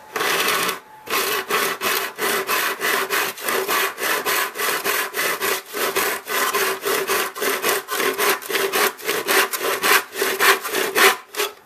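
A hand saw cuts through ABS plastic pipe in fast, even back-and-forth strokes, each a loud, close, raspy rasping burst, continuing steadily with a brief pause near the start and no talking.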